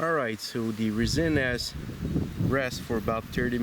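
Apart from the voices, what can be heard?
No everyday noises stand out.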